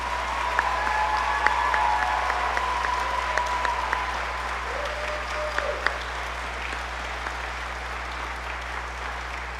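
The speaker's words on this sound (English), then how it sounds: "please join me in giving this group a round of applause." A concert audience at a spring school choral concert applauds a choir group steadily and fairly loudly for several seconds, and the clapping gradually tapers off.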